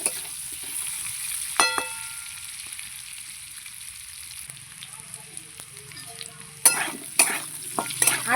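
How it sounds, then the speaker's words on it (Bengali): Potato pieces fry in oil in a pan, a soft continuous sizzle close by, broken by metallic spatula scrapes and clinks near the start and louder stirring bursts toward the end. "আলুটাকে ভেজে নেব।"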